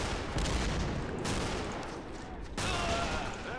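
Gunfire from the World War II strategy game Men of War: Assault Squad 2, set in 1943: dense, continuous volleys of rifle and machine-gun shots with booming impacts, loud and sustained throughout, with no voices.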